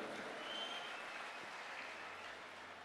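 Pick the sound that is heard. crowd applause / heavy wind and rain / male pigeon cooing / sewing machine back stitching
crowd applause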